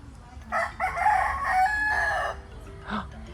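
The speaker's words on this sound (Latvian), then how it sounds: "Gailis." A rooster on Prison Island in Zanzibar crows once nearby, a loud drawn-out call lasting about two seconds, followed by a short cluck.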